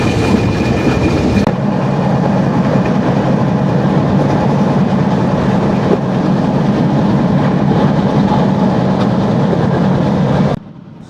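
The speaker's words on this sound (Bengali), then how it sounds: "এই মুহূর্তে জাহানাবাদ এক্সপ্রেস ট্রেনের গতি হচ্ছে ঘন্টায় 100 কিলোমিটার।" The Jahanabad Express runs at about 100 km/h, a loud, steady rumble with rhythmic wheel clatter heard close from on board. The sound cuts off abruptly at the end.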